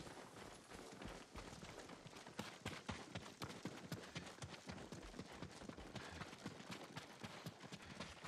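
Horses' hooves clip-clop in Ghost of Tsushima, with rapid, dense, steady hoofbeats continuing throughout, quiet and without speech.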